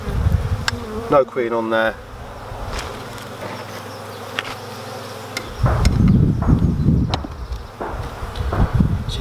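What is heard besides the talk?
honeybees buzzing during beehive inspection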